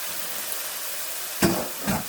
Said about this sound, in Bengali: তেল ছেড়ে দিতে এখন আমি চিংড়ি মাছগুলো দিয়ে দিলাম